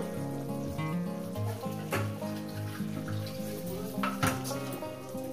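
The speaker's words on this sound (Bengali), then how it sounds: "ঢাকনা খুলে দেখবো বন্ধুরা" A pot lid lifted and crab curry stirred in a home kitchen, with a few sharp metallic clanks and scraping knocks over a steady tonal background hum.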